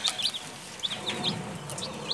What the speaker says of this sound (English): the mother hen was outside here together with her beautiful chicks